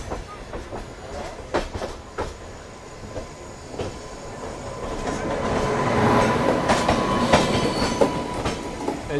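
The Ratnachal SF Express, running with LHB coaches, rolls past with rhythmic clickety-clack of wheels over rail joints, growing louder and closer toward the end.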